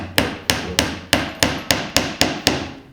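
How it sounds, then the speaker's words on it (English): A hammer driving nails into wood while building a simple wooden treasure chest: eight sharp, evenly spaced blows at about three per second, loud and close, each ringing briefly, with no talk. "It will be easier for the nails to drill in the wood."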